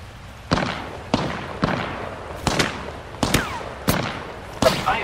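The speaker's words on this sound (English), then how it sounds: "I am taking fire, friends." Gunfire in the video game Apex Legends: a string of sharp single shots spaced roughly half a second to a second apart, loud and punchy over a low game background, with no talking.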